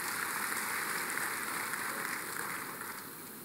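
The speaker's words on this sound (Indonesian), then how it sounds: "Kasih tepuk tangan buat Tuhan." A church congregation applauds during a worship service, a dense, steady wash of clapping that holds at an even level and fades slightly toward the end.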